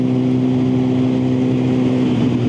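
Liter-bike motorcycle engine holding a steady, loud drone at constant revs while cruising along the A388 road, with wind rush and no gear changes throughout.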